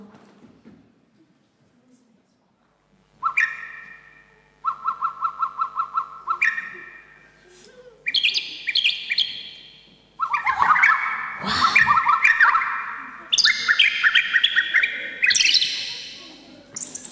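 Bird calls during a children's performance based on The Magic Flute: bright, whistling chirps and trills come in repeated bursts after a quiet start, growing busier and overlapping, loud and close.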